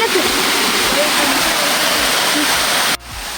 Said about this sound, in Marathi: यो असा आमच्या गावातील एक वॉटरफॉल जो की कोणाला माहिती नाही